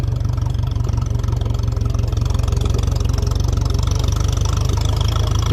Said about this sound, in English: it's going to be like a bit of a hike for the tractor, so I'll let the revs off a little bit, let it labour it along.